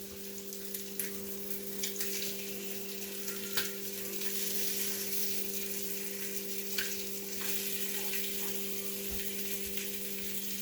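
Tomatoes fry in a pan with a steady, crackling sizzle that runs without a break, broken now and then by soft stirring scrapes. A low electrical hum sits underneath, and nobody speaks.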